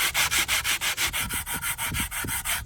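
Rhythmic rubbing strokes of an 80 grit sanding pad worked by hand across wood, about a dozen even back-and-forth passes, close and steady with no talk.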